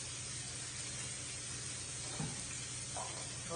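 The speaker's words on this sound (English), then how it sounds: "We're going to cook the potatoes until they are brown and golden." Potatoes frying in olive oil in a pan give off a steady, quiet sizzle throughout, with a couple of faint stirring clinks and no talk.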